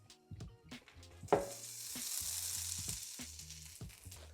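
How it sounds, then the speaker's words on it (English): Butter and extra virgin olive oil sizzle in a pan over medium heat, a close, steady hiss that swells after a sharp clack and holds evenly, with faint low hum beneath. "I'm just gonna go in with some butter and some extra virgin olive oil"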